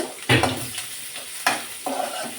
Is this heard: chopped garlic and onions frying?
yes